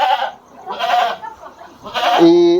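Goats on a dairy goat farm bleat close by in three short, wavering calls, the last one loud and held.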